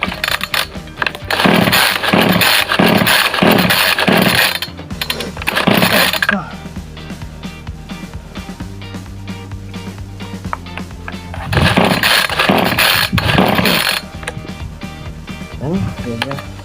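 A brush cutter engine is cranked again and fails to catch: bursts of rattling pull-start strokes at close range, a quieter stretch, then another round of pulls, with someone talking.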